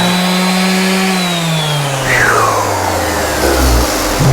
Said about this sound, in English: Just give this a light sanding here, front and back.